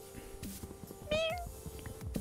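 A person voices a single short, nasal meow in imitation of a cat, rising out of ongoing background noise and low muffled sounds, fairly close.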